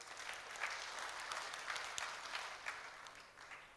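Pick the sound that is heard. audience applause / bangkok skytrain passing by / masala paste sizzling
audience applause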